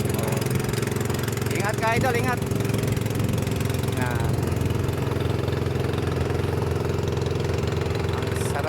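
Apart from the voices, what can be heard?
motor boat engine passing at sea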